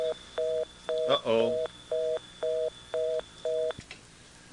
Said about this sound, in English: I'm calling WBCQ right now.